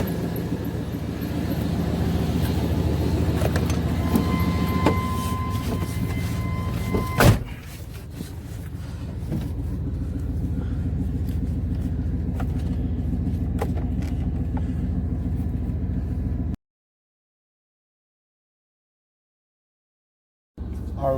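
A 1994 Chevy Tahoe 1500 AWD 4x4 with a 350 V8 driving on a test drive, its engine a steady low rumble throughout with a brief clunk partway, heard from inside the truck, then cutting to silence before a short return.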